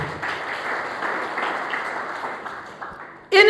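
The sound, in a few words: applause for God in a church service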